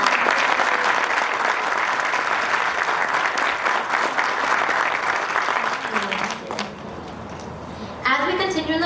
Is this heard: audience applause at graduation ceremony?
yes